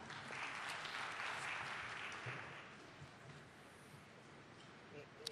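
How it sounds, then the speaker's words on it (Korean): A hall audience applauds at a Korean Ministry of Education R&D funding briefing. The clapping is fairly soft and dense, peaks early, then thins out and tails off into scattered claps. "다시 한번 큰 박수 부탁드리겠습니다"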